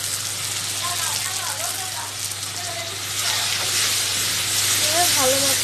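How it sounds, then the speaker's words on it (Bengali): Raw tomatoes and ginger-garlic paste frying in a pan for a pomfret fish curry, a steady hissing sizzle that swells slightly louder partway through, with faint overlapping voices or chatter in the background. "ভালো মতো একটু কষাবো"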